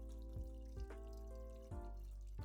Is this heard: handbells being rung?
no